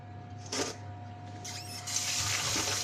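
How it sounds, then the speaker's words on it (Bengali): Running tap water pours over pieces of cow head skin being washed, a splashing stream with bursts of heavier flow and hand rubbing, no voices. "এখন ভালো করে ধুয়ে নেব।"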